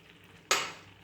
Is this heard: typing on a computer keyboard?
no